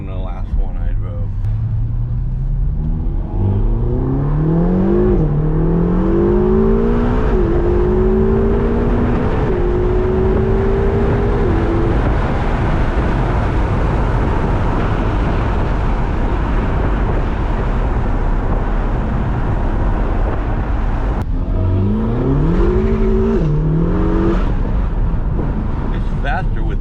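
A car accelerates hard with rising, shifting engine tones and spinning tires with wheel hop, fairly loud and close from inside, easing off midway before revving up again near the end.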